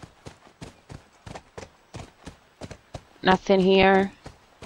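Horse hooves clip-clop in a steady, evenly spaced rhythm in The Last of Us video game, moderately close, with a short burst of loud sound near the end.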